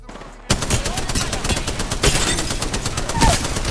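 Rapid gunfire from an enemy-team firefight in Apex Legends, dense continuous bursts of automatic shots beginning abruptly after a quiet start and staying loud throughout.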